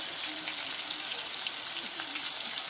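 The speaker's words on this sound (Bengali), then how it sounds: "এবার একটু নাড়াচাড়া করে জল দিয়ে দেব সামান্য করে জল দিয়েছি" Water is poured into a hot pan of Bombay duck fish curry with potatoes, giving a steady, close hiss and sizzle that runs unbroken at an even level.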